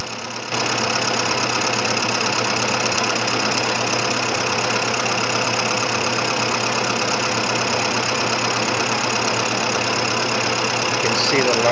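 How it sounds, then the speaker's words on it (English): A lathe turns Black Palm stock in a steady, continuous mechanical drone, with loose fibers occasionally slapping against the cutter in faint chatter beneath the hum. "every once in a while you hear a little chatter or a flat spot. That is actually loose fiber slapping."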